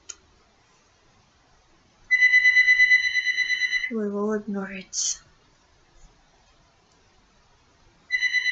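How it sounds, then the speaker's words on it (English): A landline phone rings in a home, loud pulsed electronic trilling bursts that start, stop, and resume after a pause, while someone talks between the rings. "Sorry for the phone in the background."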